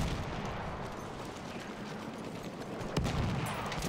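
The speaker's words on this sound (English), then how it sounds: "The enemy artillery fire is breaking up our trenches." Enemy artillery fire in the World War One shooter Battlefield 1, heard as a steady rumbling barrage of distant booms with a sharper blast near the end, continuous battlefield noise throughout.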